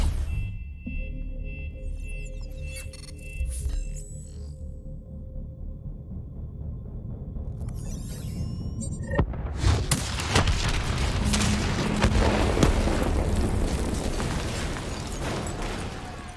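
A detonation goes off in Call of Duty Black Ops 3. A low droning hum with scattered electronic beeps gives way to a sudden loud blast, followed by a long, rumbling, crackling roar.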